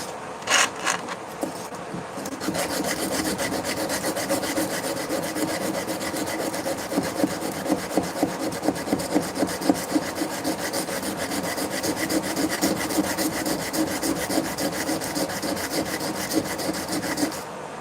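Hand sanding by hand: fast, repeated rough rasping strokes of abrasive against wood, close and steady, following a brief pause at the start, with no talking.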